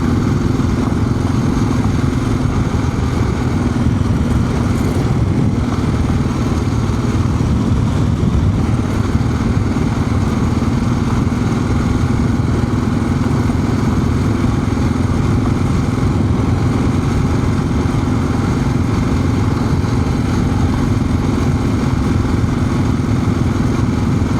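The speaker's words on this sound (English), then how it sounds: "I have a 650 single that I can lug down and just let it be in too high of a gear" A 650 cc single-cylinder motorcycle engine lugs along in too high a gear on a gravel ride, giving a steady, loud, continuous low drone with constant road and wind roar and no talking.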